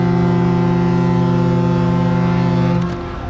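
Horn of a cargo ship arriving in the harbour at Banda, Indonesia: one loud, long, low blast holding a steady, rich tone, then cutting off near the end and leaving a quieter hum behind.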